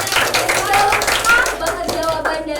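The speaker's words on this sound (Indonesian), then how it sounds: "Tepuk tangan dulu dong untuk dia." Students in a micro-teaching classroom clap together for a classmate, a dense burst of hand claps running throughout with voices audible over it.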